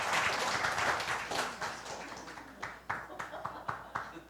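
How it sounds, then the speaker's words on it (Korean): A church congregation applauds, a dense wash of clapping that gradually thins into a few separate, spaced claps near the end, heard alongside a speaking voice. "여러분 박수 주시기 바랍니다"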